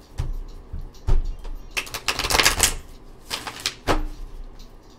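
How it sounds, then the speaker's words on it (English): Tarot cards shuffled by hand, a run of quick crisp riffling and slapping bursts with short pauses, close and alone without talk. "One more shuffle."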